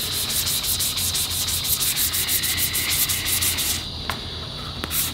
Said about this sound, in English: Again, we're just doing a quick sand here.